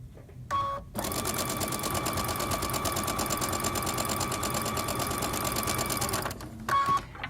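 Domestic sewing machine chain piecing quilt block squares, stitching in one steady, continuous run of about five seconds, with a brief start before it and short bursts after it stops.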